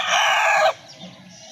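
A rooster crows loudly and close by, the call cutting off abruptly, followed by a quiet low rumble.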